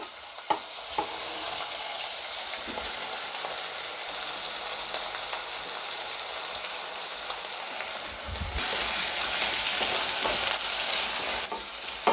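Garlic frying in a pan as part of a low-carb zucchini and chorizo dish, a steady crackling sizzle with stirring that grows louder and brighter partway through, no talk.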